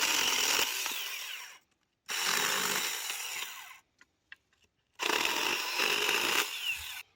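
A Saker 4-inch mini chainsaw cuts through branches in three loud, sustained bursts of near buzzing, with short quiet pauses and a few small knocks between cuts.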